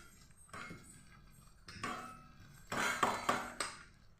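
A spoon works rice rava into ground batter for steamed aviri kudumu rice cakes, giving quiet, scattered clinks and scrapes against the bowl with brief louder bursts near the end.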